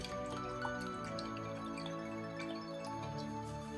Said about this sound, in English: we're going to start off with a generous amount of oil